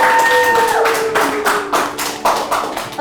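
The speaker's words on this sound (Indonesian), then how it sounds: "Bagus, tepuk tangan teman-teman untuk Putih." Classmates clap for a student in a classroom, a sparse run of sharp, separate hand claps at close range. A faint tonal whine fades out beneath the first claps.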